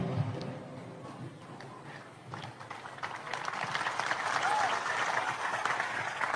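An audience applauds at an Islamic religious lecture held with the Aceh regional police, a dense, steady wash of clapping that swells louder toward the end.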